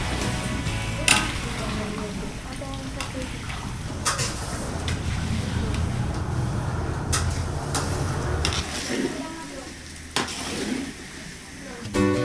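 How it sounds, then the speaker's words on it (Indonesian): Sambal of ground bird's eye chili and onion is stirred in a large wok, with steady sizzling and repeated scraping, clanking strokes of a utensil against the metal, close and continuous. "Adonan sambal juga harus terus diaduk selama setengah jam agar tidak gosong"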